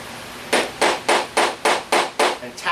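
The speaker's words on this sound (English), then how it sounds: "This is their Artisan hammer. It's a Japanese style hammer." Seven sharp, evenly paced taps of a Japanese-style hammer ring out close by, each a crisp strike with a short decay.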